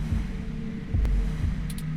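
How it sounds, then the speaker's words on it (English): Pounding heartbeat in the video game 2064: Read Only Memories, a low, muffled double-thump repeating every half second or so over a steady droning hum. "Your heartbeat is like sonar to me. The louder it pounds, the faster I race to stop it."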